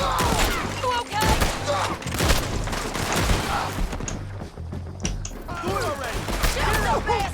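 Rapid bursts of gunfire from the Red Dead Redemption 2 video game epilogue, a dense fusillade of overlapping shots and thuds that continues through the clip, with voices shouting in between.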